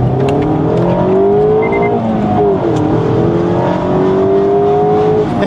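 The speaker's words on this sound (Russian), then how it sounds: "При этом я разогнался до 80 км в час" A car with a manual gearbox accelerates hard on a road, its engine note climbing steadily with a brief dip for a gear change before pulling up again, loud and close throughout.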